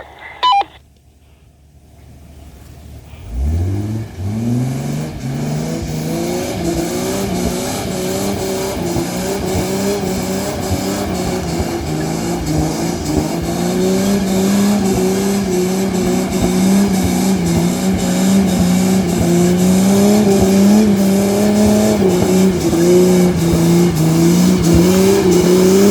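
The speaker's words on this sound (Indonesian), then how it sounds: "Cherokee RS akan mencoba bergerak." A Jeep Cherokee RS on an off-road course fires up after a few faint beeps, then its engine revs and holds a loud, rising, strained drone close by for the rest of the stretch.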